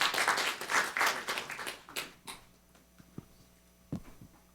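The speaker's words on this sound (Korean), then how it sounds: "박수로 환영해 주시기 바랍니다" Audience applause welcoming a speaker at a National Assembly forum in Korea, a brief burst of clapping that fades within about two seconds, followed by a few scattered isolated claps and quiet room noise.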